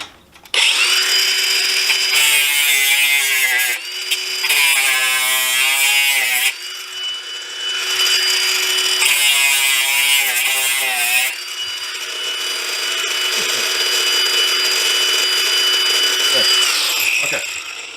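Power grinder cutting through old nails in a wooden window frame, a loud whining screech in several long bursts with brief pauses between, close up and steady, no talking.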